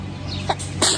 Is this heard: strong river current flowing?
no